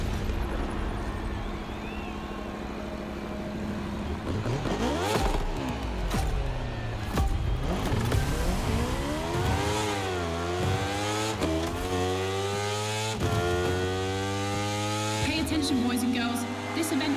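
Motorcycle racing engines in the video game The Crew Motorfest, loud and close, revving and climbing through repeated gear shifts with rising and falling whines.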